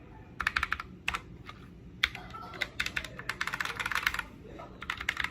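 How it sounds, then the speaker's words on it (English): Keys tapped on a RisoPhy ultra-slim TKL gaming keyboard with linear switches, giving a quick uneven patter of soft, muted bottoming-out clacks close to the mic, with brief pauses between bursts. "There's no mechanical click like a snap or anything. It's more like the sound when you hit the bottom"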